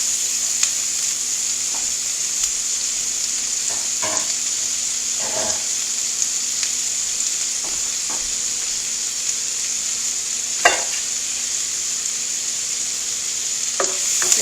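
Diced onions sizzle steadily in a hot pan, a constant hiss broken every few seconds by brief scraping stirs of a utensil against the pan, close-up with no speech.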